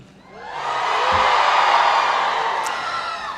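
Families at a university commencement ceremony rise into loud cheering and whooping as a crowd, swelling to a broad roar before easing slightly.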